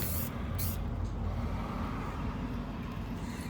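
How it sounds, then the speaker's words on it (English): Clear sealant spray is applied to air dry clay sculpted flowers outdoors, giving a steady hissing spray with short bursts at the start, close and continuous. "sealed them twice with just some clear spray"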